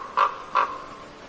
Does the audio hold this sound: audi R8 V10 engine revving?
no